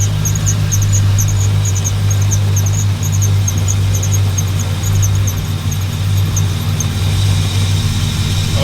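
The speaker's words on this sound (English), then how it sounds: "That belt on the bottom, one of them belts making a little squealing." A Chevrolet Camaro SS engine running with a belt squealing, a loud steady idle drone topped by a faint, thin intermittent chirping squeal throughout, no talk.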